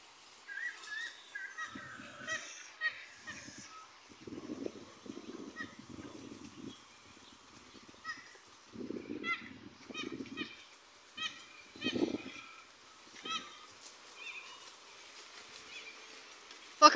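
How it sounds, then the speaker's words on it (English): Birds call from the trees near duck ponds on soft, squishy ground, a busy mix of chirps and whistles repeating throughout at moderate distance, with no talk over them. "birds in the trees are going off"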